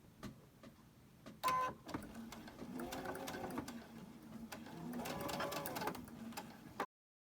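A sewing machine chain stitches fabric for a Christmas tree quilt project in bursts: a sharp clack, then two runs of steady whirring stitching that stop abruptly.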